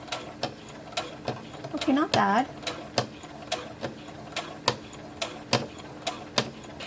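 A sewing machine stitches fabric slowly with white thread while clothes are being altered, producing evenly spaced mechanical ticks at a steady moderate pace. A person speaks briefly partway through.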